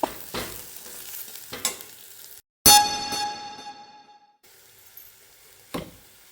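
Masala powder sautéed with onion and ginger-garlic paste for a soya chunk curry, with close spoon stirring strokes over a soft sizzle and a single bright metallic clang ringing out partway through, then further stirring.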